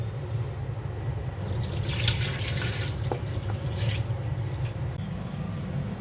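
Rice is rinsed under a running kitchen tap for mung dal khichuri, a steady splash of water into the grains that swells and then eases off, close by with no talking.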